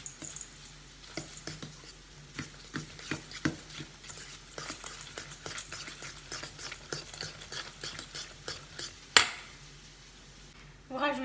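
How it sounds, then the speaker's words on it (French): Breadcrumbs stirred into a whisked mixture for a small savoury cake, giving a run of soft, close scraping and squishing strokes in a steady rhythm, with a sharper knock near the end. "Vous rajoutez la chapelure. Vous mélangez de nouveau."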